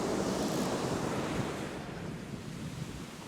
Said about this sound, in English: That wind is affecting my casting a little bit.